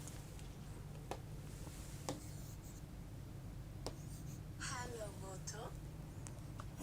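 Pen scratching out a handwritten answer on paper, soft continuous strokes with a few sharper ticks, faint and close, under a quiet room hum with a brief voice partway through.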